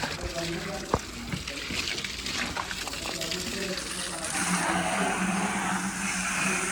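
Water sloshes and gushes as a drinking water jug is cleaned, a steady, fairly loud wet churning that swells slightly toward the end.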